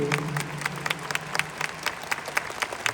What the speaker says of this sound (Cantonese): 呢個掌聲係屬於邊個？